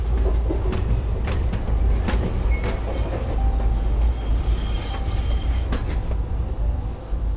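A tram in the video game Syberia The World Before runs along its rails, a loud continuous rumble with wheel squeals and clicking joints, alone without talk.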